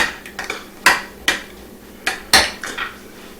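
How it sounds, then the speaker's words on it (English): Stirring a shrimp appetizer mixture in a dish, with a spoon clinking and scraping against the bowl in a handful of sharp, irregular knocks and lighter taps, close and clear with no talk. "stir this up nicely"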